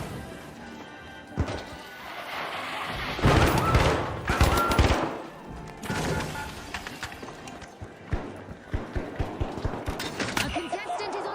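A deployed turret fires in a video game amid loud, busy action, with heavy bursts of gunfire and impacts in the middle, then a steady run of sharp repeated shots toward the end.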